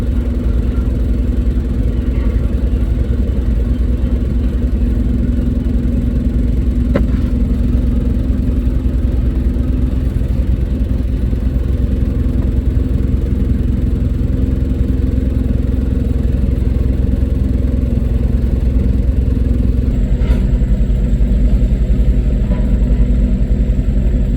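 A four-cylinder 4,400 cc, 145-horsepower Perkins diesel pickup truck engine runs loudly and steadily, a close, continuous low rumble with faint clatter and no talking.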